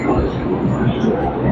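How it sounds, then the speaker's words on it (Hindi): A Delhi metro train pulls in for boarding, a steady low rumble and mechanical hum filling the platform, with murmuring voices throughout and a faint clink. "तो दोस्तों आ गई भाई हमारी मेट्रो।"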